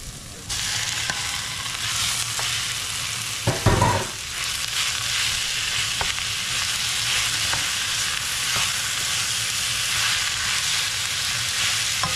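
Ground pork giniling sizzling and frying in a hot pan, a steady loud crackle throughout with a brief burst of stirring or tossing partway through.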